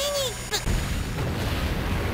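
Prinnies explode in the video game Disgaea 2: a few short chiming game effects give way to a sudden loud boom and a rumbling burst that dealt splash damage.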